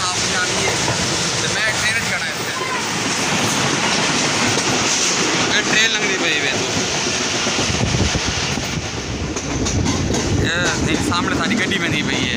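Train rumble and clickety-clack on a rail journey from Karachi to Punjab in Pakistan, a steady, loud rolling noise throughout with people talking over it.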